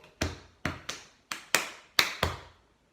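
A rhythm of seven sharp, close taps played for a music lesson, in uneven groups with gaps, the last tap set a little apart at the end; no talking.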